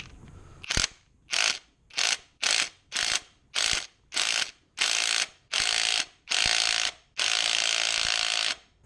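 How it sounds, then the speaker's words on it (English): Ratchet tightening the bolts of a crank pulley tool on a 2002-2006 MINI Cooper S R53/R52: eleven close, loud bursts of rapid clicking in a steady rhythm, each stroke lengthening, ending in one long sustained run, no talk. "Now I'm going to tighten the tool by hand until it just bottoms out, and then I'm going to gradually back it off."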